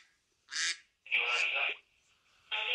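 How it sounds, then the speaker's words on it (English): Loud, close quacking from a duck indoors, three harsh nasal calls, the middle one drawn out and the others short, with silence between. "let's put that fucking duck outside"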